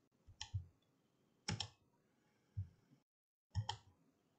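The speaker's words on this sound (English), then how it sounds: "I'm just clicking once, clicking twice, and it's putting that rounded corner in for me" Computer mouse clicks while working in Design Spark Mechanical CAD software, four separate sharp clicks spaced about a second apart, close and fairly quiet against near silence.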